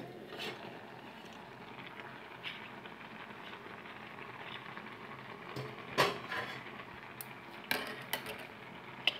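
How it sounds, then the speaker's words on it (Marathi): A lid lifted off a pot of cooking Maggi noodles gives a couple of faint metallic clinks and a rattle over quiet kitchen background, with a few smaller taps around them. "नंतर आपल्याला मॅगीवरचं झाकण काढायचं आहे"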